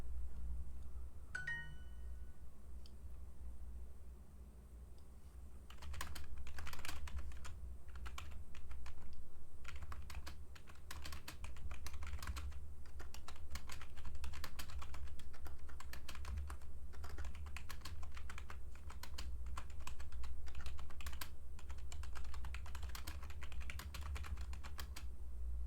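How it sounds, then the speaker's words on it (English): Steady fast typing on a computer keyboard, a dense run of close, crisp key clicks that continues without pause and with no voices. "my typing is shit lately"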